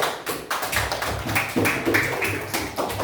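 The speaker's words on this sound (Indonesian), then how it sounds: "Aplaus." Applause in a classroom, a group of students clapping together in a dense, busy patter of many hands that carries steadily through the moment, close and fairly loud.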